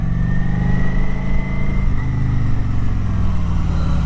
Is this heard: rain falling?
no